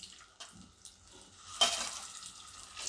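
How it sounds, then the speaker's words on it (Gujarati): Potatoes tip into hot peanut oil seasoned with asafoetida, setting off a sudden loud sizzle and crackle after a few soft clinks, then a steady frying hiss with light stirring. "હવે આપણે આ બટેટા બધા એમાં નાખી દઈએ."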